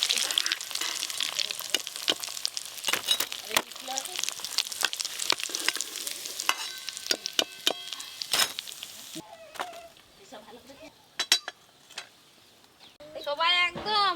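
Egg devil chops frying in oil at home, a steady near sizzle with frequent clinks and scraping taps, fading toward the end as voices talk briefly.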